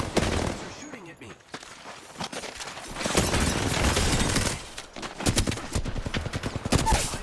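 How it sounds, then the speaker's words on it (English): Enemy gunfire in a video game, rapid automatic bursts and scattered single shots crackling at mid distance, running under and between spoken voice. "They're shooting at me."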